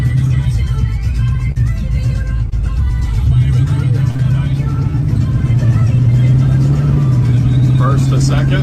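A muscle car accelerates hard with a loud, continuous engine roar, its automatic transmission shifting from first to second and then second to third, heard from inside the car with someone talking over it.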